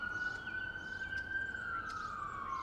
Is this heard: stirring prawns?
no